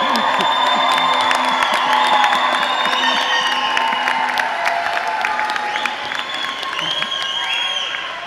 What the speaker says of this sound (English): so you can keep cheering if you want to